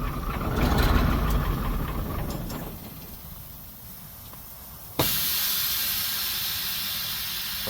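Air hisses steadily from a leak on the dash of a 1974 Dodge V8 diesel semi truck, a loud broadband rush that starts abruptly midway and holds after quieter engine rumble.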